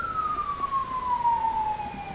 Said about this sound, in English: What the sirens doing?